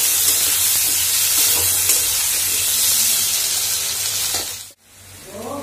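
Steady hiss of potatoes frying in hot oil with salt, loud and close, with faint stirring scrapes; the sizzle drops out briefly near the end, then resumes.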